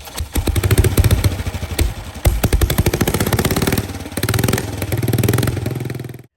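A vintage 1934 factory race motorcycle running on a track at Daytona, its engine loud and close with a rapid, rough clattering beat that surges and dips throughout.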